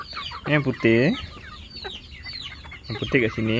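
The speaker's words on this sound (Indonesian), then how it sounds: "Ayam Afrika ni." Several close clucks from an African chicken breed with batik-patterned, hawk-like plumage, coming in short bursts, with a voice speaking between and over them.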